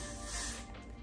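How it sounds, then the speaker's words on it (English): Hair spray is lightly misted onto the inside of a wig's lace in one soft, close hiss about a second long, with no talk. "I'm going to lightly spray the inside of the lace"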